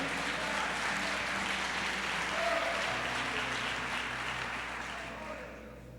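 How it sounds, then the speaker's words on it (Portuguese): A church congregation at an evangelical gathering in Goiás breaks into sustained applause, a dense wash of many hands from a large crowd that stays steady before gradually fading toward the end. "Aplauda o nome do Senhor."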